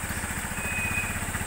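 Tricycle motorcycle engine idles while warming up, a steady close putter of rapid regular pulses with a faint whine on top, alone without voices.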